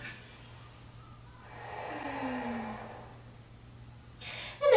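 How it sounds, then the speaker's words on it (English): A slow, deep breath drawn during a yoga flow, a long breathy inhale and exhale swelling then fading, close and fairly quiet against a steady low hum, ending in a sharper rustle. "a couple deep breaths here"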